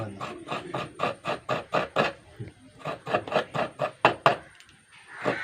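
Fresh coconut being grated makes quick, rhythmic rasping strokes, about five per second, in two close bursts with a brief pause between them.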